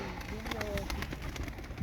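A bird coos in soft, repeated low calls amid a muffled background, with a voice speaking faintly underneath.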